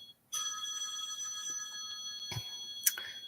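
A phone rings in another room, its electronic ringtone tones coming through muffled and at a distance, with a brighter chirp close to the end. Nobody is talking.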